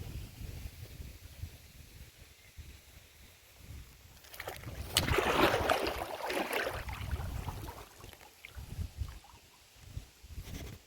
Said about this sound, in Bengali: মানুষ নৌকায় করে যাচ্ছে